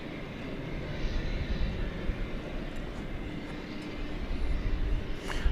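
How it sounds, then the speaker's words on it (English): An MD-11 airliner taxis toward the runway at Dallas Fort Worth airport at night, its engines giving a steady distant rumble and broad whine that continue throughout. "we're looking tails out at that MD-11, which means it's destined to drive over to the east side for takeoff"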